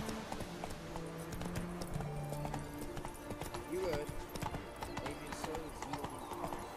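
Rhythmic clip-clop of a horse's hooves galloping in The Witcher 3: Wild Hunt, with in-game ambience and a player talking over the steady beat.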